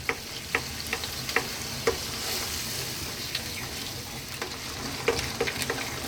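A pan of pasta in garlic bacon tomato sauce sizzles steadily while a utensil stirs it, giving scattered clicks and scrapes that come and go over the hiss.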